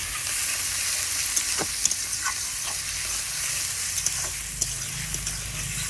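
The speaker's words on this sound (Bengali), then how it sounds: "পেঁয়াজ আর টমেটো একসঙ্গে ভালো করে আমি কষিয়ে নেব" Chopped onion and tomato sauté together in a pan, producing a soft, steady sizzle with scattered small pops and stirring clicks, fairly quiet and without talk.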